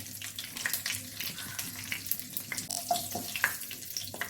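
Cardamom pods, bay leaves and cumin seeds sizzle in oil for a palak chicken curry, a dense continuous crackle with scattered pops and stirring, close-up and with no talking.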